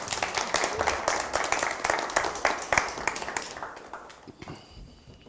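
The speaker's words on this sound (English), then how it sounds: "The audience applauds," An audience claps after a talk by Ernie Heavy Runner, a lively burst of hand claps lasting a few seconds before thinning out and giving way to quiet.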